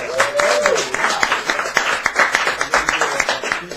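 A crowd at a cafe open mic night claps steadily, a dense patter of applause with a voice briefly audible underneath.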